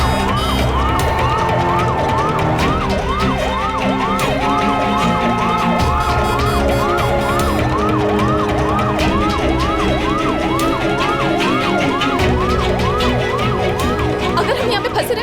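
An ambulance siren wails in traffic, its repeating rising-and-falling tone loud and continuous over a dense, busy street din throughout.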